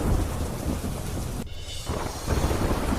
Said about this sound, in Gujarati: દરિયામાં કરંટને કારણે પ્રોટેક્શન વોલ પાસે મોજા ટકરાતા જોવા મળ્યા